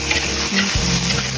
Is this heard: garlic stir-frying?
yes